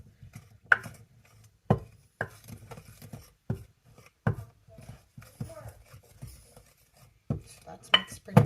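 Chocolate sourdough pancake batter being mixed in a bowl, with scattered knocks and scrapes of a utensil against the bowl at irregular intervals, quiet and close, under occasional talk.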